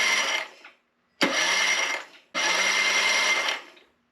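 A Mercury 9.9 four-stroke outboard motor is cranked over by its electric starter in three loud, buzzy bursts, the first short, then two longer runs of about a second each, with brief silences between.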